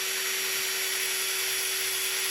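A hone polishing the inside bore of a Thunderbird brake wheel cylinder gives off a steady, high-pitched whirring grind, close and continuous, with a constant tone running underneath and no talking.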